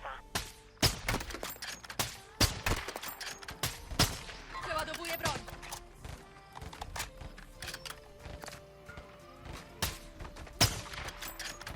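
Call of Duty: Modern Warfare 2 co-op gunfire: many sharp single shots and short bursts scattered irregularly throughout, close and loud, with players chatting quietly underneath.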